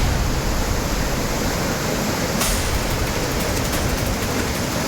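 Floodwater from the swollen Yamuna river rushes over a motor bridge in a loud, unbroken roar of churning water, close and constant throughout.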